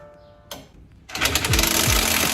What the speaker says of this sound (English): I'm gonna get that 19 and a impact gun, Ugga Dugga